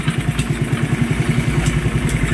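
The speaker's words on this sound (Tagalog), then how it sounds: "yan ang tunog ng makina niya mga boss." A motorcycle engine idles steadily after a cam and two-tappet replacement, running quietly with an even, rapid low thumping rhythm close by and no talk.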